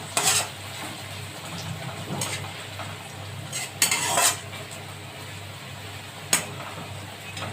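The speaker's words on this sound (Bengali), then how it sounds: "আমাদের পেঁয়াজটা প্রায় ভাজা হয়ে গেছে, আর একটু ব্রাউন করে ভেজে নেব।" Onions frying to a brown colour in a pan while a utensil stirs them, giving a soft continuous sizzle broken by a few sharp scraping clinks against the pan and no voices.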